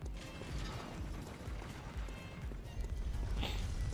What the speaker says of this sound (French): le grillage va s'ouvrir